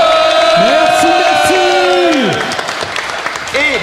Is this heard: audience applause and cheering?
yes